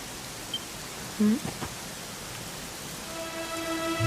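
Steady rain hissing down in the Dragon Quest XI game world, a constant broadband wash with a couple of brief soft tones partway through.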